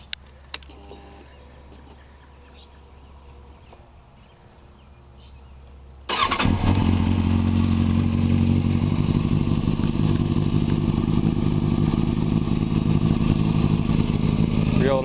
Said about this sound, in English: I guess I could start it up for you guys, let you hear that Yosh exhaust.